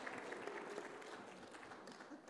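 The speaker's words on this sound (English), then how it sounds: "Give a good hand clap." An audience gives a hand clap, a short stretch of faint, dense applause heard at a distance, even and unbroken throughout.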